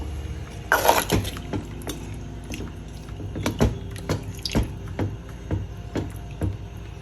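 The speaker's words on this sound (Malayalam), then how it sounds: "നമ്മൾ എപ്പോഴും തിളച്ച വെള്ളമേ ഒഴിക്കാൻ പാടുള്ളൂ." Boiling water pours into an anchovy and mango curry, a brief splashing burst followed by scattered clinks and light taps of utensils against the pot, with no voices.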